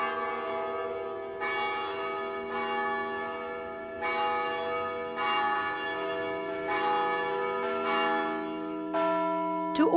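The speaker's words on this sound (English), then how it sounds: "these sounds, these bells, long pretty much dormant" Long-dormant city church bells ring out in a slow, resonant sequence of strikes about every second or so, their tones overlapping and sustaining, heard at a moderate distance with no talking.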